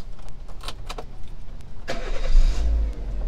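A 2013 Chevrolet Spark LTZ is started. A few light key clicks are followed by the short whir of the starter, and then the small engine catches and settles into a low, steady idle close by.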